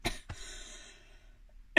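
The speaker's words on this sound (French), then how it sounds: "J'ai quelque chose qui me gêne au niveau de la gorge, donc excusez-moi, je tousse" A person with an irritated throat coughs twice at close range, with a brief gap between, and a further harsh burst of coughing or throat noise at the very end.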